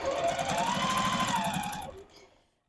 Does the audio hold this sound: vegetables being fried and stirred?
no